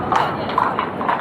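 Hooves of a carriage horse clip-clop in a steady walking rhythm on a Vienna city street shared with buses, close and clear over a busy urban background.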